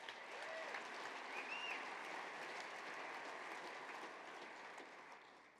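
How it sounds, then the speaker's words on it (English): Applause from a community gathering in Calgary after an airline announces Boeing 787 Dreamliners will be based there, a soft, distant wash of clapping that continues steadily and tapers slightly at the close. "You notice how I didn't start speaking to cut off the applause"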